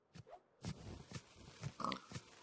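A Minecraft pig in an animation gives a string of short, quiet oinks and grunts, several separate squeals and snorts in irregular rhythm, heard alone.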